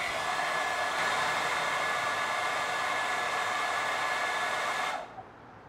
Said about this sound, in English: So now I'm gonna use the hairdryer